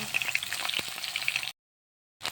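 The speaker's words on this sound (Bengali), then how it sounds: "মাছগুলো দিয়ে একটু হালকা করে ভেজে নেব।" Chital fish fries lightly in hot oil with a steady, close crackling sizzle of popping bursts, then cuts to silence before the sizzle briefly resumes.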